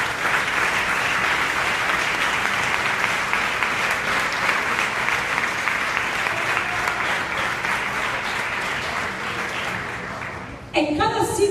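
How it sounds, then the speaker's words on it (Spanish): Sustained, loud applause from a church congregation at a Venezuelan prayer gathering, steady dense clapping for about ten seconds before it tapers off, with a voice briefly coming through at the very end. "Un aplauso fuerte al Señor."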